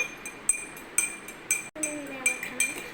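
A spoon stirs homemade lemon juice in a glass, clinking against the sides in regular, bright taps about every half second, close and fairly quiet.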